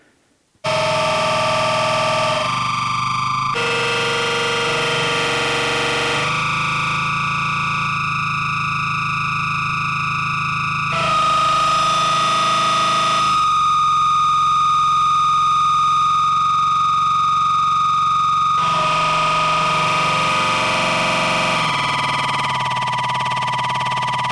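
Electric guitar run through an echo pedal, its knobs being adjusted, giving loud, sustained, distorted tones with layered repeats and shifting pitch sweeps, humming steadily throughout with no talking.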